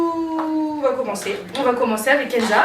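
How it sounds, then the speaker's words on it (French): A small dog gives a sustained howl that breaks into yips and barks, close and fairly loud, while someone talks over it in a clothing shop. "derrière on a le petit chien de la boîte qui fait le beau."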